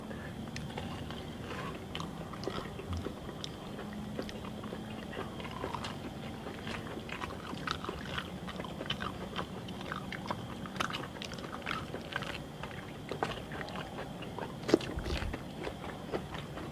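Crunchy chewing while eating durian sticky rice with bitter melon: close, steady mouth crunches and bites repeat through the whole stretch over a faint background, with no talking.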